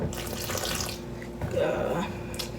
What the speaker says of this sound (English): So what you do is you just slowly pour water in here and mix it